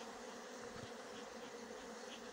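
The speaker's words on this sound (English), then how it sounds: "all these bees, they're coming out" Honeybees pour out of a hive at an apiary, a dense continuous buzzing drone, close and steady with no talk over it.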